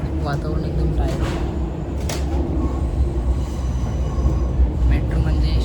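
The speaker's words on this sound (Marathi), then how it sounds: "दोस्त आता बसलो मेट्रोमध्ये." Inside a moving metro train carriage, the wheels on the rails give a continuous loud rumble with occasional brief squeals and clicks, and voices talk over it.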